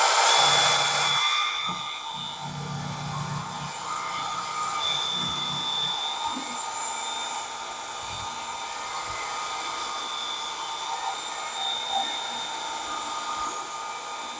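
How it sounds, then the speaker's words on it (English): A Ken Onion Work Sharp belt sharpener runs a knife across a fine 5000 grit belt, giving a steady high whine with repeated short grinding passes, each rising and easing back, close and fairly loud. "Now I'm down to the 5000 grit belt, and this one's a lot more forgiving."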